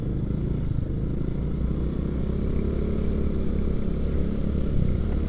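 A motorcycle engine hums steadily while riding along a road, a continuous close mid-pitched drone with slight rattling and no talking.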